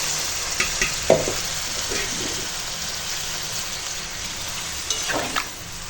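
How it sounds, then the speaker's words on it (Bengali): Ginger-cumin paste and greens fry in a pan with a constant soft sizzle, broken by a few sharp scraping stirs and clinks of a utensil, close and fairly quiet. "আদা জিরে বাটাটা দিয়ে দিলাম দিয়ে একটু ভালো করে কষিয়ে নিয়ে এইবার দিয়ে দেব এই চুঁয়ের পাতা"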